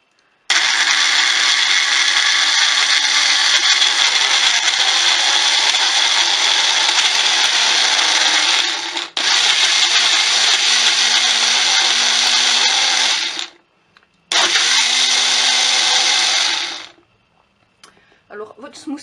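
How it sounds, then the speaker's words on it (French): A personal blender (Nutribullet-style) mixes smoothie ingredients in loud, steady bursts: a long run of about nine seconds, a second of about four, a brief pause, then a final shorter whir before stopping. "je vais déjà commencer par mixer ce que j'ai dedans"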